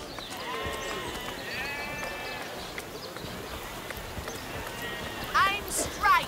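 Sheep bleating in the video game Divinity Original Sin, several wavering bleats near the start and middle with sharper, louder calls toward the end, over a soft ambient game background.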